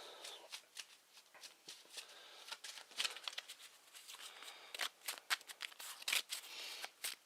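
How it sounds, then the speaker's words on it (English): Eldritch Horror expedition cards are shuffled by hand at close range, a run of crisp riffling snaps and soft papery patters in irregular bursts over several seconds. "So you shuffle these up."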